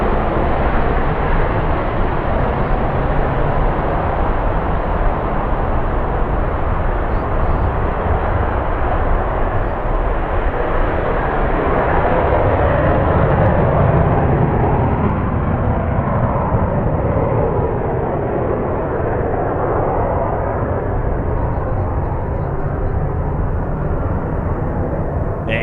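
An airplane engine roars continuously at an air show, a loud, broad, steady drone that swells and shifts slightly over its length with no voices.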